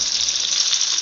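Sliced raw mango sizzles in hot oil with mustard seeds and curry leaves, a steady bright hiss of frying, close and continuous, with no voices.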